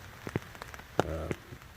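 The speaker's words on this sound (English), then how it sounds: "it started raining again" Rain pattering on a tent during a stormy spell, with scattered drops tapping close by and a brief louder burst of patter midway.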